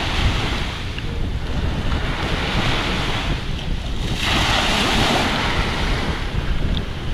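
Loud ocean surf rolls and crashes continuously, with waves surging in broad swells and wind buffeting the microphone throughout.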